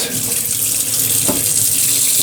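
A tap runs water for washing, a steady loud hiss and splash without pause for about two seconds.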